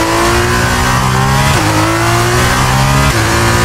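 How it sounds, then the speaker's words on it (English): An F1 race car engine in a racing video game screams loudly and continuously, with the pitch climbing through the gears and dropping sharply at two quick gear changes. "I need to hear those car sounds."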